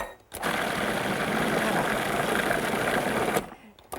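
A blender whizzes soup ingredients with dry sherry in a kitchen, starting abruptly with a loud, steady, buzzing whir that holds evenly for about three seconds before cutting off.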